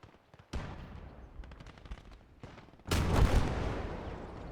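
Tank fire in the Gates of Hell war game: scattered distant gunshots and a short burst of machine-gun fire, then a heavy, booming cannon blast from a tank firing a high-explosive shell, rolling on loudly afterward.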